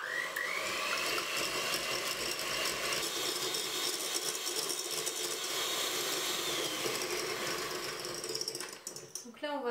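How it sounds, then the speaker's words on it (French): A whisk or beater whips eggs for a genoise sponge cake, a steady high buzzing mechanical whir running continuously and close up, with no talk over it. "On va prendre les œufs que l'on va battre"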